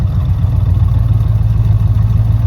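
A Chevrolet Impala engine idles steadily with a low, loud, rhythmic pulsating rumble throughout, close up and with no talking.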